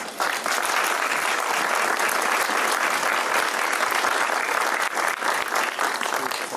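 Warm applause from an audience welcoming archaeologist Jorge Antenor Calero Flores to the stage, a dense, steady wash of clapping that holds at full strength throughout.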